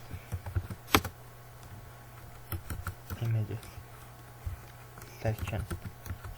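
Scattered clicks from a computer keyboard come in short, sparse bursts over a steady low electrical hum, with a voice briefly audible in between.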